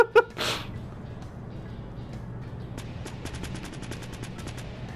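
Gunfire in the video game Fortnite: a loud burst of shots up front, then a rapid series of sharp, evenly spaced small-gun shots in the second half over steady game background noise.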